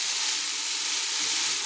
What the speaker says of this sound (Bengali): মুগ ডালটাকে ভেজে আমি জল ঢেলে দিলাম